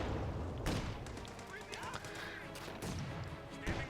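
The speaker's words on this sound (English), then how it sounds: "They've also got an MG in this house here." Machine gun fire from an MG emplacement in a house during a Company of Heroes 2 match between Wehrmacht/OKW and British forces, with bursts and scattered distant shots over a busy battlefield din, under talk.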